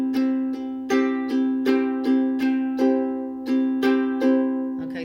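Steady acoustic guitar strumming on a chord in a straight-eighth down-up pattern for a 12-bar blues in C, with regular even strokes, close and fairly loud, alone without talk.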